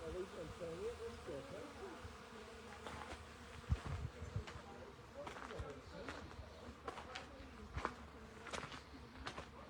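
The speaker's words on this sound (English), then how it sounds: "listen to the bees there" Bees buzz around cacti on an outdoor tour in a faint, continuous drone, steady in the background with scattered louder passes and a few soft knocks.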